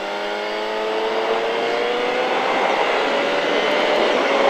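A motorcycle accelerates hard on the Le Vigeant race track, its loud, continuous engine note climbing steadily in pitch from start to finish, close and alone.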